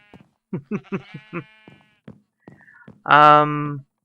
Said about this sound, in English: I brought over a couple of sheep, and then I bred a few.